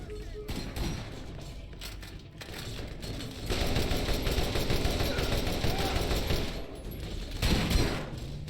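Shotgun blasts from Sledge in the shooter game Borderlands ring out in a dense, loud barrage of repeated booming shots over busy game noise, with a burst late on.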